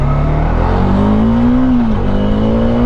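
A McLaren 765LT sports car engine revs hard and holds near its limiter around 8,500–9,000 RPM, a loud, close, sustained high-pitched howl with a slight rise and dip in pitch.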